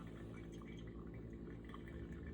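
Hot water pours steadily over coffee grounds during pour-over brewing, a faint continuous trickle and splash heard close up, with nobody talking.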